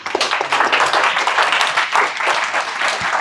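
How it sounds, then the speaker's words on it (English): A conference audience claps loudly and steadily for a speaker about to give a talk on HTML and CSS, a dense wash of many hands with no voices. "Can we have applause for Johannes?"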